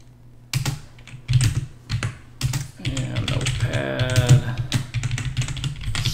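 Typing commands on a computer keyboard produces bursts of sharp, close key clicks in irregular runs, with quieter gaps between, and a faint murmur of talk partway through.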